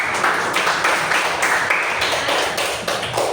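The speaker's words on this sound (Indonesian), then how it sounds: "ikut sekali tepuk tangan untuk angkat" A ninth-grade class applauds together in a classroom: a dense, steady round of many hands clapping that fills the whole moment at a fairly loud level, with no talking.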